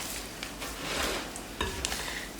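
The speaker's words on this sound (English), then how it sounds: "So I'm just going to stir until I make sure that, until I don't have any more dry ingredients." Spelt sourdough dough is stirred in a bowl until the flour is absorbed, with soft scraping and squelching strokes and a few sharper clinks of the utensil against the bowl, close and fairly quiet.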